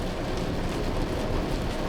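Rain falls steadily during a storm as a truck is unloaded, a dense continuous hiss with low rumbling underneath and no voices.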